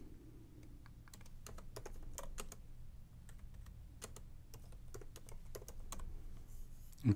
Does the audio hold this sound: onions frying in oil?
no